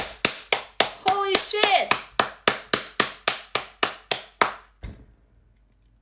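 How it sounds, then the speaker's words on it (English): About sixteen sharp, evenly spaced hand claps during a livestream, loud and close, with a voice speaking over a few of them before the claps stop and the room goes quiet. "Guys, everybody clap."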